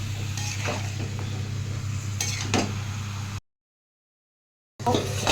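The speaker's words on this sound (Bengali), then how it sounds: "দিয়ে একটু ভালো করে কষবো যাতে মশলাগুলো এর মধ্যে ঢুকে যায়" Boiled jackfruit is sautéed with spices in a pan, a soft steady sizzle with occasional scraping and clinks of a spatula against metal, broken by a brief silent gap before the frying resumes.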